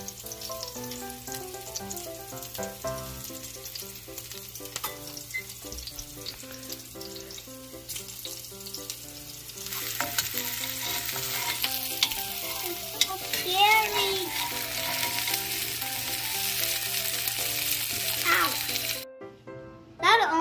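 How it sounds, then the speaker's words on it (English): Onions frying in hot oil as a child cooks salsa, with a continuous close sizzle and occasional stirring scrapes, while voices talk over it and background tones run underneath. "Onions are roasted because we put in the oil."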